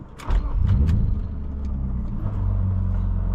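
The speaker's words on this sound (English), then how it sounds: "That exhaust sounds gnarly." A BMW E36 M3 with a manual swap rumbles loudly from inside the cabin, a deep throaty exhaust drone that rises as the car pulls away and keeps driving.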